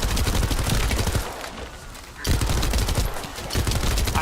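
Rapid automatic gunfire in the shooter video game The First Descendant, loud dense bursts that drop out briefly midway and then resume, with heavy low-end impacts and a busy mix.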